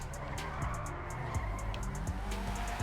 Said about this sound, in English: Definitely sounds like a little 4-banger, or maybe even a little 3-banger. Yeah, it's definitely like a high-pitch engine note.